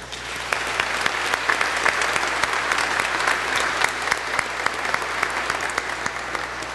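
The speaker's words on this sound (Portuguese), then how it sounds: "Então eles merecem uma salva de palmas, né?" Church congregation applauding during a parish Mass, sustained dense clapping from many people, steady and even across the whole stretch.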